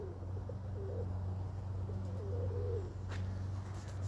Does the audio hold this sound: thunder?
no